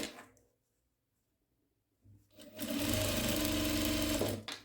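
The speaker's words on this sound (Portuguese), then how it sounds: "E aí, a gente vai fazendo essa costura aqui até o final." Sewing machine running a seam along a dish towel, starting after a quiet pause and then whirring steadily and loudly for about two seconds, close up.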